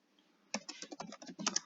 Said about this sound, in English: type something on the keyboard